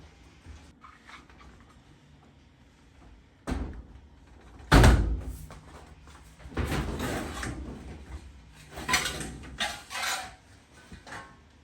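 A plastic cover being fitted back onto an LG washing machine during a drain repair, giving a few loud knocks and thunks with a sharp slam near the middle, then rattling handling sounds, close by.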